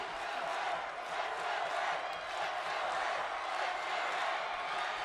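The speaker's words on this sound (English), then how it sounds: "Listen to the crowd." A stadium crowd roars in the NCAA Football 2015 video game during a Marshall at Kent State matchup, a steady, broad wash of cheering that holds at an even, moderate level without distinct voices.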